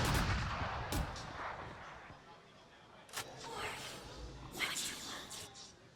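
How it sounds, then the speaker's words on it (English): Gunfire in a professional Valorant match, rapid bursts of shots and impacts in the game audio, recurring loudly beneath excited commentary throughout. "Zander and Asuna just unload."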